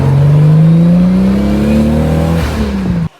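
A twin-turbo 2JZ Toyota Supra engine, rated around 600 to 700 horsepower, revs loudly and up close, its tone climbing steadily for about three seconds before cutting off abruptly.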